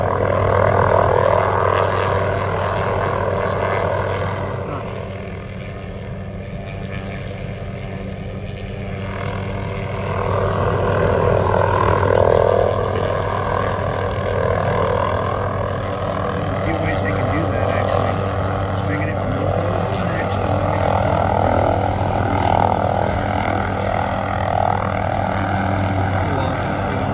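A helicopter flying overhead near high-voltage power lines, its engine droning continuously, swelling and easing slightly, with a low rhythmic rotor throb throughout.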